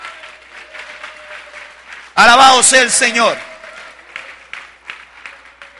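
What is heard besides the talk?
church congregation applauding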